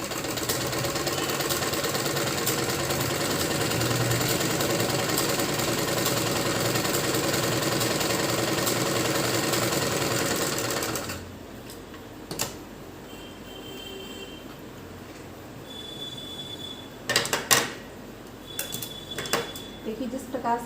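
A sewing machine runs in a steady, continuous whir while stitching a kachchha, then stops, leaving a quieter room with a few clicks and brief sounds.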